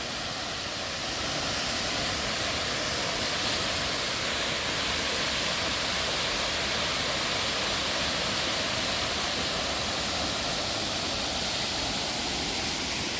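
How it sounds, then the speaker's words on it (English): Steady broadband roar of water pouring over the top of a waterfall at Macquarie Pass National Park, heard up close and continuous throughout with no voices. "So this is the top of the waterfall that we were just at"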